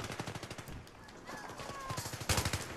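Rapid automatic gunfire rattles in bursts during a Battlefield 3 match, with a denser volley near the end and faint voices in the background.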